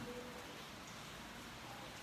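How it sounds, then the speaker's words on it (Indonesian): Rain falls at Podomoro near Telkom University, a faint, steady hiss of drops on surfaces with no other sound standing out. "Hujan turun di Podomoro seperti biasa."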